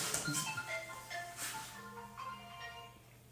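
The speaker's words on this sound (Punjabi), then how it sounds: "ਉਹ ਫੋਨ ਆ ਗਿਆ ਤੁਹਾਡੇ ਕੋਲ" A mobile phone rings with a melodic tune of stepped electronic tones, repeating steadily at moderate loudness, with no one talking over it.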